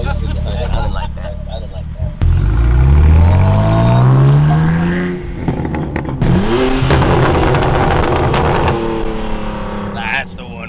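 Straight-piped BMW M4 exhaust, loud and close, rumbling and rising in pitch through hard acceleration, easing off and then climbing again, with people talking over it.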